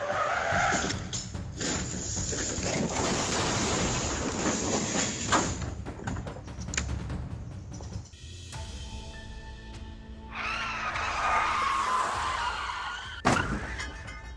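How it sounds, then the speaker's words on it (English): A car hits a concrete wall and then skids and slides along the road, a long harsh scraping screech with a sudden crunching impact near the end. "The car lost control and drove straight into the concrete wall, causing a collision and then sliding along the road."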